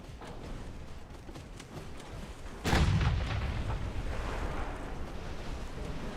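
Warship main guns fire in the naval battle game Ultimate Admiral Dreadnoughts: a single loud, close boom breaks over steady wind and sea noise, then a long rumbling roar trails off. No one speaks.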